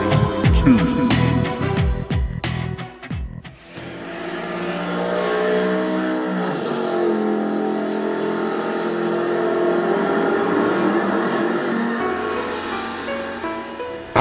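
Electric motors of 1/32 scale slot cars whine in a steady, continuous drone through a tournament race on a track, following a brief burst of busy, clattering noise at the start.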